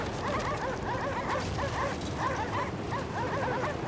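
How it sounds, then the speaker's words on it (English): Dog in a trippy video game barking and yipping at a ship, repeated short barks and whimpers in a steady rhythm over dense, loud game ambience. "Yes, bark at the ship."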